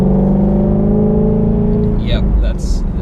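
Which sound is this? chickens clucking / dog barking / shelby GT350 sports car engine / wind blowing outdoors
shelby GT350 sports car engine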